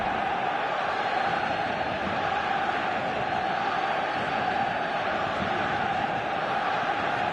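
A football stadium crowd makes a dense, steady roar of many voices, distant and unbroken, with no single voice standing out.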